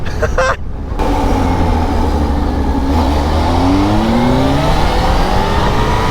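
A Kawasaki Z H2 motorcycle engine in sport mode roars loudly and close, with a brief dip before the pitch climbs steadily through a hard acceleration.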